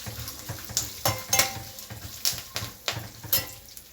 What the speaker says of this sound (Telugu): ఇది కూడా కొద్దిగా వేగాలి. కొద్దిగా వేగితేనే బాగుంటుంది.